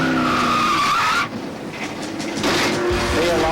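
Mark Martin's race car skids out of control and slams hard into the infield barrier, heard from an in-car microphone: tires squeal loudly with a whining engine, a sudden drop, then scraping, rumbling impact noise.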